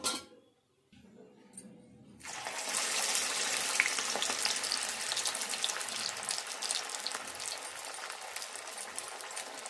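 Puffed rice garelu with onion frying in hot oil, a steady loud sizzle that starts after a short quiet moment and then holds constant, close by with no talking.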